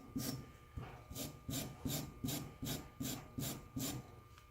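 Light wire brushing over rusty machinist jacks, a steady back-and-forth scrub in about nine even, close strokes with a rough hissing texture and no talk.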